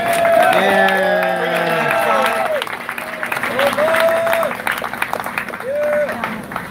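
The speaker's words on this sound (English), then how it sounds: "So everybody give another big round of applause for Omar." A crowd at a political fundraiser in a Torrance hotel applauding, steady clapping mixed with cheers and raised voices, fairly loud and close throughout.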